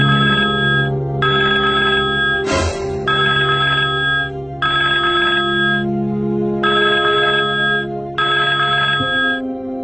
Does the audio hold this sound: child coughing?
no